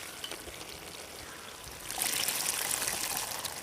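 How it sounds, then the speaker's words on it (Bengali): Boiled cooking water poured into a pan of spiced chhaat ghugni curry with potatoes and peas: a steady low hiss and trickle, then a louder, brighter rush and sizzle as the water hits the hot pan, continuing to the end. "সেদ্ধ করা জলটাও কিন্তু আমি এই তরকারির মধ্যে দিয়ে দিলাম"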